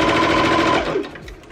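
A sewing machine stitches fabric for a scrunchie in a loud, close, rapid steady run that slows and tapers off near the end.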